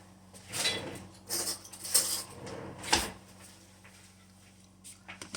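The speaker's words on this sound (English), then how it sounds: "I forgot some silverware." Silverware clinking as cutlery is gathered for lunch in a kitchen, four or five separate bright metallic jingles and clatters spaced a second or so apart, fairly close.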